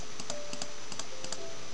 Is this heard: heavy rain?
no